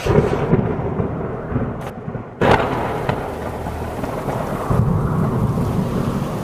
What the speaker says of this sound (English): It all started with a monstrous and terrible storm.